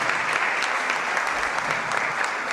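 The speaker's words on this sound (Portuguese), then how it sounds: "Vamos recebê-lo aplaudindo o nosso Jesus, Ele merece." A church congregation applauds to welcome a visiting pastor, dense, sustained clapping from many hands that fills the room at a steady level throughout.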